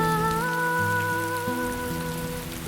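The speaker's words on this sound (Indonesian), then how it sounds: "Hujan datang" Steady rain falls in a dramatized scene, a dense continuous hiss of drops on surfaces with low sustained musical tones running underneath, no voices.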